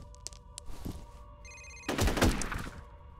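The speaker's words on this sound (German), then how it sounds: "Telefon." A telephone rings briefly in the shooter game F.E.A.R., a short electronic ring followed by heavy thumps and a rumbling impact, with scattered clicks beforehand.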